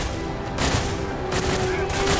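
Automated turrets in Fallout 4 unleash sustained rapid gunfire, a dense continuous volley of shots with bursts swelling in intensity, loud and close throughout.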